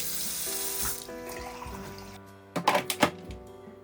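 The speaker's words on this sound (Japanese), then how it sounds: "60度のお湯を出しつつ吸い取っていきます。" A Yadea R6 rinser cleaner sprays 60°C hot water and suctions it back up, giving a steady hissing spray over a humming motor, then a few short gurgling slurps near the end.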